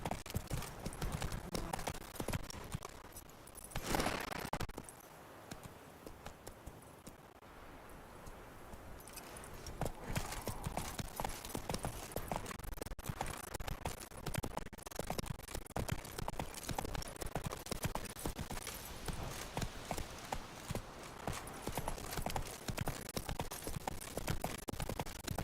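Horse hooves clip-clop in a steady trotting rhythm as a horse is ridden in The Witcher 3 video game, with continuous close hoofbeats and a brief lull in the middle.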